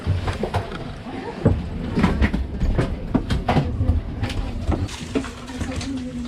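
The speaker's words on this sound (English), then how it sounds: "We have to take this train." Rhythmic clacking of train wheels over rail joints with a steady rumble, heard from inside a moving carriage on a train from Vienna to Budapest, faint voices now and then.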